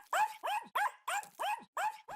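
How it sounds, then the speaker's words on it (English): A cartoon dog barks at cockroaches in a fast, even series of seven loud, close yaps with short gaps between them, and no other sounds. "He ran to bark at the cockroach."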